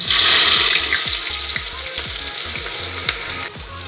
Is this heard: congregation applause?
no